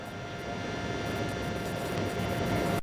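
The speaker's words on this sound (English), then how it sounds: "These are fighter jets, one would presume" Fighter jets passing overhead make a continuous, broad roaring rumble that stays loud and even for the whole stretch, with no voices over it.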